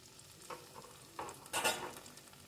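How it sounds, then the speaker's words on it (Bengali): Vegetarian soybean and lentil dhoka dalna being stirred in a frying pan: a few scraping stirs over a steady soft sizzle, with a louder, brighter burst of frying about halfway through. "এখন সব কিছুকে ভালো করে নেড়ে এটাকে একটু শুকিয়ে নেব"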